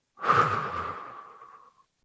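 A single slow, airy exhale from a breathing exercise in a children's worship session, close to the mic, swelling quickly and then fading gently over about a second and a half, with no talk over it.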